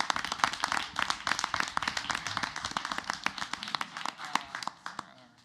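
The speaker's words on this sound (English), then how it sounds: "let's give our speakers a big round of applause" A small audience at a school board of education meeting claps for the speakers, a scattered patter of individual hands that thins out and fades toward the end.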